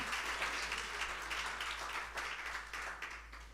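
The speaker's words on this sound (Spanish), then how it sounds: "Dale a Dios el aplauso." A church congregation claps together in sustained applause for God during a sermon, a dense steady roar of many hands with a low hum underneath, no voices standing out.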